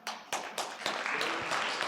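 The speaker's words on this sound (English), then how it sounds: "if anything that I've said today, deserves an applause" Scattered audience applause rises after a talk on food systems, starting as a few separate claps that quickly build into a steady, moderately distant patter of many hands.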